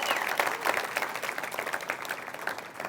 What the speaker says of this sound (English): Big round of applause for where it landed.